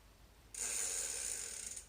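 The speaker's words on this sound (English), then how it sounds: "Rear wheel off." Bicycle freehub clicking in a steady fast ratchet as the rear wheel of a new, lightly road-dusted bike is pulled out, close and clear after a short quiet start.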